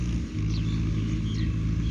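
A Ford tractor ploughing a field, its engine a steady, loud, close rumble that holds without break, with faint higher whines drifting over it.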